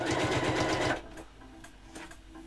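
Sewing machine stitching fabric for dice trays, a fast, steady mechanical chatter for about a second that stops abruptly, leaving faint room noise.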